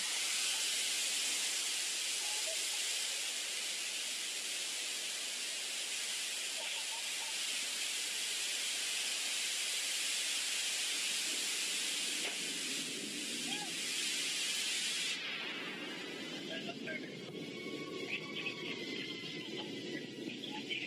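A Blue Origin New Shepard booster relights its rocket engine during landing, a loud, steady broadband roar and hiss that holds for the whole stretch, shifting and thinning near the end with faint activity underneath.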